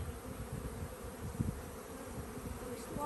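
Honey bees in a nuc beehive give a steady, low buzz that fills the whole stretch, fairly quiet and even, with no voices over it.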